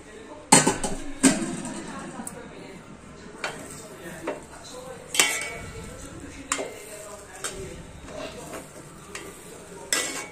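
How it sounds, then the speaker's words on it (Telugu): Cooking pot handled while making upma, with its lid lifted off: several sharp metallic clanks and clinks at irregular intervals, near and fairly loud, over a soft background of kitchen stirring and scraping. "మళ్ళీ మూత తీసి"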